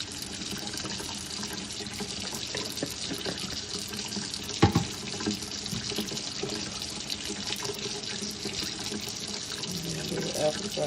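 Hot tap water runs steadily into a sink, a continuous close rushing splash with a brief knock partway through and no talking.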